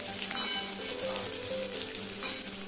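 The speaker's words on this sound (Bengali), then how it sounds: "আলু আর সজনে ডাঁটাটা বেশ ভালোভাবে নাড়াচাড়া করা হয়ে গেছে" Potatoes and moringa drumsticks stir-fried in a pan for a vegetarian chachchari: a steady, close sizzle with soft stirring that runs without a break throughout.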